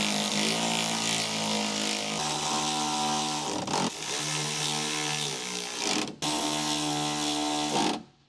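Small electric impact wrench with a short 5.5mm socket drives retaining screws on a Ford F-150 rear door. Three loud, sustained buzzing rattles run close up, each cut off abruptly, and no one speaks.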